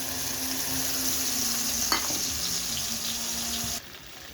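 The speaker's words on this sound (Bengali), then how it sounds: "দেখো বন্ধুরা, মশলা কষানো হয়ে গেছে।" Spices such as bay leaf, ginger paste, chilli, cumin and turmeric powder frying in a pan, a continuous close sizzle with a steady hum and one sharp stirring knock, ending abruptly.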